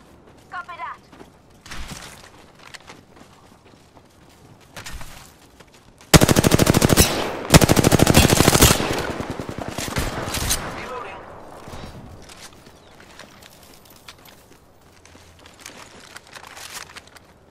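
Rapid automatic gunfire in an online shooter game, with a loud sustained burst of shots followed by scattered quieter shots and game sounds.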